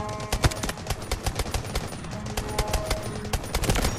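Rapid automatic gunfire in the shooter game Delta Force, bursts of sharp shots cracking in quick, uneven clusters with distant pops between them and no voices over them.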